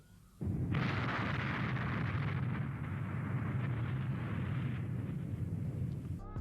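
A planet blowing apart in a sci-fi film: a sudden, massive explosion swells into a loud, sustained roaring rumble that holds for about six seconds before cutting off.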